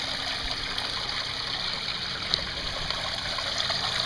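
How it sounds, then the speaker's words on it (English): Water runs steadily through a gold prospecting sluice set at a low angle, a continuous close rushing trickle with faint gurgles and no talking. "You can see a little bit of the water is kind of leaking out."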